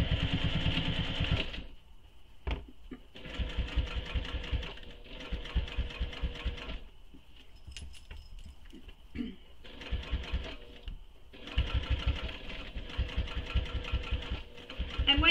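A sewing machine runs in repeated bursts while stitching a seam over previous stitches on a clutch bag, its motor whirring steadily with short pauses between runs and faint clicks in the gaps.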